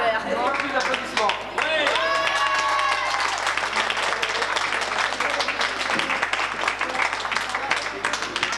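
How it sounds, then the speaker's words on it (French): Audience applause at a 50th anniversary celebration of a foyer. A voice speaks briefly at the start, then dense, steady clapping swells and fills the room until the end. "Plus d'applaudissements."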